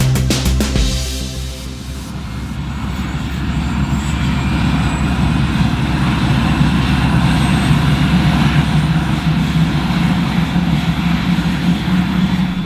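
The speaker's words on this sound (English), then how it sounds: "The MH-65's twin jet engines are spooling up" Loud, steady roar of a Coast Guard MH-65 helicopter's twin turbine engines spooling up at Oshkosh, a low droning rumble with a rising whine, continuous and close, no voices.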